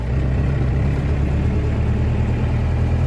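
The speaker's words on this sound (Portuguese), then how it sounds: "Acelerando o carrão aqui, hein?" A big delivery truck engine drones steadily and loudly from inside the cab while accelerating on a road, a constant low, heavy rumble with no voices heard.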